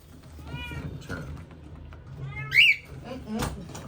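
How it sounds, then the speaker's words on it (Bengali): A pet cat meows a few times at a veterinary clinic, one call louder and sharper, amid quiet background voices and room noise. "আমার পোষা বিলাই এটাই"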